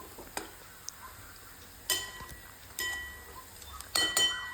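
Chopped onion and moong dal karhode are stir-fried in a pan, with a low sizzle beneath intermittent scraping and clinking of a metal spoon against the pan, close and moderately quiet.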